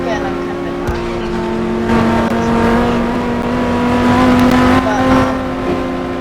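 Single-gear car engine in the Roblox game Greenville revving steadily with a sustained droning hum that rises slightly in pitch, loud and continuous throughout.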